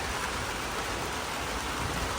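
Heavy rain with big drops pours steadily as a dense, even hiss, close and constant, with no other sounds.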